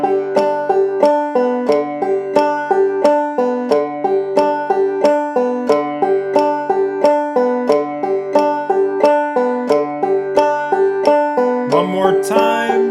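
A clawhammer banjo picks a waltz at a steady 90 BPM, with drop-thumb notes closing each bar, producing crisp plucked strings in an even three-beat rhythm that runs close and clear, ending on a brief strum.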